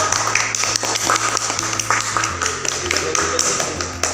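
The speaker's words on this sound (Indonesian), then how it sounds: "beri tepuk tangan untuk Juli dari kelompok 1" A classroom group claps for a student presenter during a microteaching lesson: a brisk run of sharp, overlapping hand claps at moderate distance, steady across the whole stretch over a faint electrical hum.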